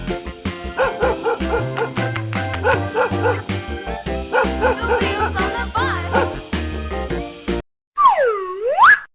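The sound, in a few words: dog barking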